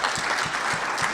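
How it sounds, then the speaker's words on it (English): An audience applauds two debate speakers at a student debate on legalizing marijuana and gay marriage, a steady wash of many hands clapping at even loudness for about a second with no pauses. "Applause for our two speakers up here"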